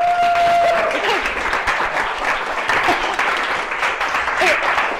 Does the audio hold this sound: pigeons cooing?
no